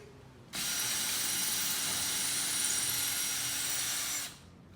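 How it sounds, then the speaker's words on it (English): A power drill whirs steadily at close range for about four seconds in a garage, starting and stopping abruptly, with no talking. "I was only able to drill one hole"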